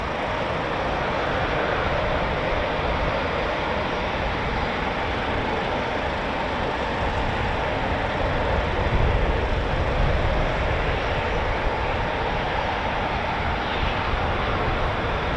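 Twin-spool Eurofighter Typhoon FGR4 jet engines at RAF Coningsby give a steady, loud broadband roar that holds throughout with little change, with no talk over it.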